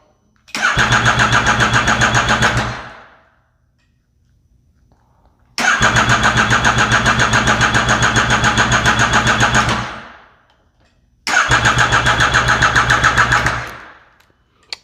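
Engine of a Yamaha FZ-09 motorcycle after a flashed ECU install, airbox mod and Sprint filter, starting and running in three loud, steady bursts of about two, four and three seconds, each cutting off abruptly into silence.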